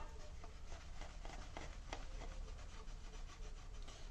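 Cotton waste cloth rubbing polish onto a vehicle's faded, scratched paint, a steady close scuffing and wiping with repeated strokes, continuous and fairly quiet with no talk.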